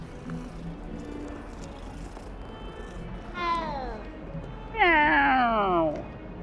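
Cat meows from a cat in the video game Hogwarts Legacy, two drawn-out, rising-then-falling cries in succession, the second louder and closer, over a quiet game ambience.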